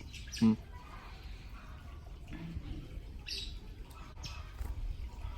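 A pet lovebird gives one sharp, loud chirp, followed by a few fainter, scattered calls against a low background hum.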